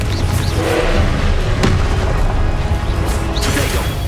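The Confringo blasting spell goes off in Hogwarts Legacy combat, with loud booming impacts and sharp crashes over a dense rumbling bed, plus a few quick bursts spread across the span.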